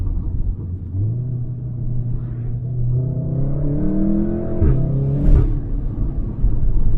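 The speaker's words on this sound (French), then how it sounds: "ça pète à l'échappement, c'est un truc de ouf" Volkswagen Golf 7R engine rumbling and revving as it accelerates, pitch climbing through gear changes with sharp pops from the exhaust near the end.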